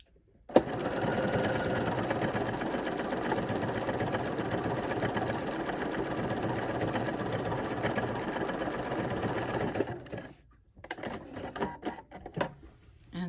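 Bernina 480 sewing machine stitching continuously for about ten seconds, a steady fast mechanical whir and rattle, then stopping, followed by a few short clicks and handling noises.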